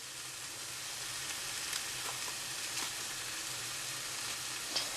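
Spaghetti squash with tomato and garlic sizzles and fries steadily in a pan, a constant soft crackle with a few small pops, no talk.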